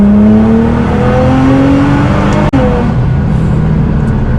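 Toyota Supra A90 accelerating hard at high speed, a loud, close engine drone whose pitch climbs steadily, broken by one brief dropout near the middle before the pull resumes, with no one speaking.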